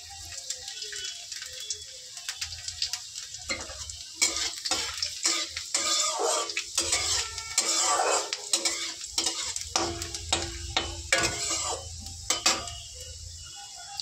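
Chopped garlic, four or five cloves, sizzles and fries in mustard oil while a utensil stirs it with repeated scraping clinks against the pan; steady close crackle throughout, no talking.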